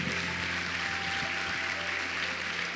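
A church congregation at a Portuguese-language evening service claps together in a steady, continuous wash of applause, with a low hum underneath.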